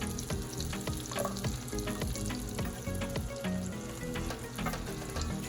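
Aromatics sautéing in warm butter in a pan before shrimp goes in, making a dense steady sizzle with frequent small crackles and pops, fairly quiet and without voices.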